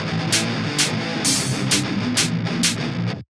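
A heavily distorted electric guitar chugs through a dense metal riff in back-to-back eighth-note and quarter-note triplets, with crashing cymbal hits, loud and then abruptly cut off.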